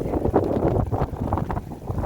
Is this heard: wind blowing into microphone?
yes